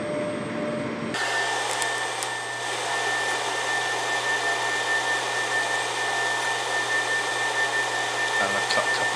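A laser cutter runs with a steady, loud whirring hum from its air extraction while cutting out small parts for a 3D-printed signal box interior, with brief clicks near the end.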